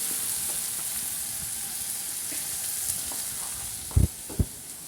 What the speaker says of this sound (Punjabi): ਹੁਣ ਆਪਾਂ ਇਹਦੇ ਵਿੱਚ ਪਾ ਦਿੰਨੇ ਆ ਪਨੀਰ